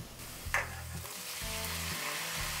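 Onions and roughly chopped tomatoes sauté in a pan, a steady close sizzle and fry with a few stirring scrapes and a brief clatter near the start, no voices.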